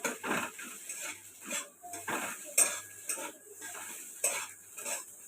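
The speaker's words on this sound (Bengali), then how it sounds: "ডিমটা ভাজছি কড়াইয়ের মধ্যে।" A metal spatula scrapes and clanks in a wok while an egg fries in oil, giving repeated sharp scraping strokes and knocks over a faint sizzle, close and without speech.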